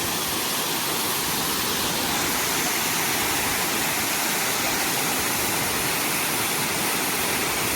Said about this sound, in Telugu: అట్లా వాటర్ ఫాల్ చూడండి